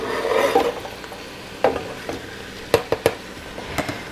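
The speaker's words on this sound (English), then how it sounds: "So I'm going to add 6 cloves of chopped garlic." Six cloves of chopped garlic sizzle with softened onions in a pan as a marinara sauce base. A crackling fry is broken by several sharp scrapes and knocks of a stirring utensil against the pan.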